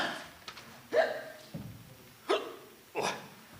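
Four sharp, separate hiccups spaced about a second apart, each a short burst, heard close and alone without talk between them.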